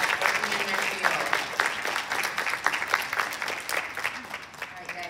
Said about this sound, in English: let's give them a round of applause for their accomplishment in their field